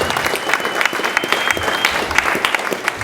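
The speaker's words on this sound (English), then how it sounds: "Let's applaud him." An audience at a talk applauds for Joe Cheng of RStudio, a dense burst of clapping that stays fairly loud and even for about three seconds.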